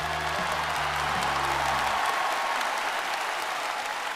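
Studio audience applauding on a Chinese televised music show, dense sustained clapping that stays loud and even throughout, with faint musical tones underneath at the start.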